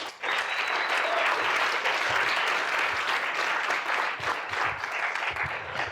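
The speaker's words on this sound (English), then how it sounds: "Please can we have a big round of applause for Louw Barnard." A conference audience applauds a speaker on growth frameworks for scaling companies, a dense, steady wash of many hands clapping together for several seconds and fading slightly at the end.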